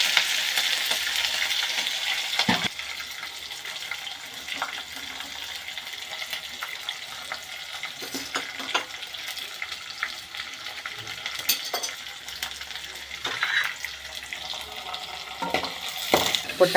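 Onion and green chilli frying in a pan, a steady broadband sizzle throughout with occasional sharper crackles and stirring scrapes, close and moderately loud with no talk.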